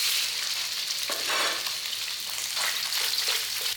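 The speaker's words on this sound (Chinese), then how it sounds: "接着肉碎下锅炒。" Minced meat stir-frying in a hot oiled wok, a steady loud sizzle that fills the whole stretch with bursts of scraping and stirring, close up, with no talking.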